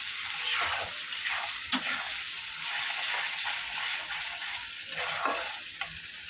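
Ginger, onion, garlic and green chili paste with a tomato sautéing in a pan for tilapia fish curry: a steady sizzle broken by repeated scraping sweeps of a spatula, close and fairly quiet.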